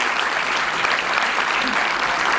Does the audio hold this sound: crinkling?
no